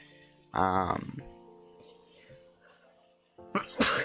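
A single loud sneeze bursts out near the start, followed by a quiet pause and then another sharp burst at the end, in a quiet room.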